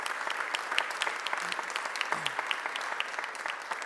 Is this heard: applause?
yes